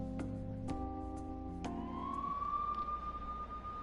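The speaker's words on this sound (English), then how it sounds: "Look at all those police cars." Police car sirens in the video game Persona 5 Royal, a rising electronic wail with a sustained high tone swelling in after a few musical hits, loud and steady to the end.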